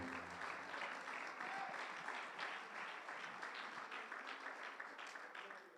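Church congregation applauding steadily throughout, a dense broad wash of many hands at moderate distance, fading slightly toward the end, with a faint voice underneath at the start.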